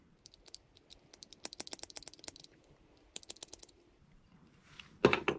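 Dull scissors trimming fishing jig skirt material cut in a run of crisp, closely spaced snips, then a short pause and a second burst of snipping, ending with a louder rustle.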